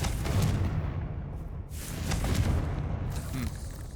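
A Confringo fire spell explodes in the video game Hogwarts Legacy, a dense, rumbling burst of blasts and crackle that stays loud through the whole moment, swelling again midway and tailing off near the end.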